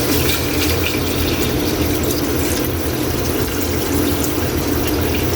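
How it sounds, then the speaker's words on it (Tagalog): Rice-washing water is poured as broth into a pot of papaitan, a loud, continuous rushing stream of liquid heard close up with no talk. "Kylie, pwede na natin maglagay ng sabaw yung ating hugas bigas."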